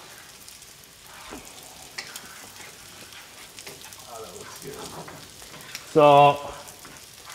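Liquid for an Alfredo sauce cooks in a pan with a steady low sizzle and bubbling. A brief tonal beep sounds near the end, and a voice speaks a single word.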